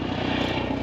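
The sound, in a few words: helicopter flying overhead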